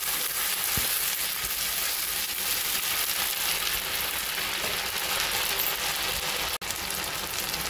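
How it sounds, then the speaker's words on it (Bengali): Ginger garlic paste fries in pure ghee for a chicken dish, giving a steady close sizzle throughout, with a brief knock near the start and no talking. "আদা রসুন বাটাটাকে একটু ভাজা ভাজা করে নেব।"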